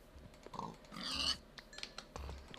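Pig oinking in the Minecraft video game, a few short grunting calls at moderate volume mixed with clicky game and keyboard-like sounds, no talking.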